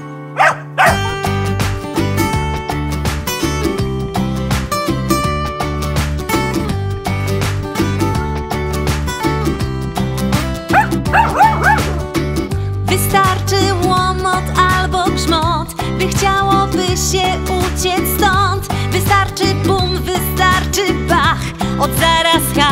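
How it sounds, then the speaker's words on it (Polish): Dogs bark repeatedly within an upbeat Polish children's song, the yaps woven through a busy, loud musical backing that plays continuously. "Im bardziej jeden szczeka, tym bardziej szczeka drugi"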